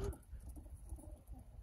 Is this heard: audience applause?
no